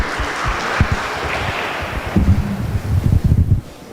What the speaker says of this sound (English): Please give a round of applause to our 4 speakers.